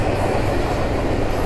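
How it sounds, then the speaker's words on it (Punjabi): A passenger train rolls past up close, a loud continuous rumble of wheels and wagons filling the whole stretch without a break. "ਟ੍ਰੇਨ ਆ ਗਈ ਹੈ ਜੀ, ਚੈੱਕ ਕਰੋ ਜੀ, ਜਾ ਰਹੀ ਹੈ।"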